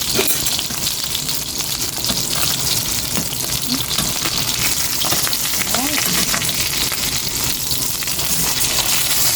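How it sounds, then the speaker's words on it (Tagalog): Tambakol fish frying in a covered pan, a loud steady hiss of sizzling oil with constant crackle and sharp splatter pops throughout, no voices. "tinaklubahan ko muna siya at sobrang dami ng tilamsik niya"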